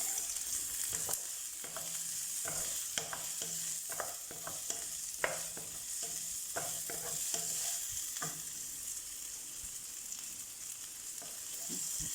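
Bitter gourd and ginger stirred in a frying pan over a quiet, steady sizzle, with a run of sharp scraping and clicking spatula strokes through the middle, fading toward the end.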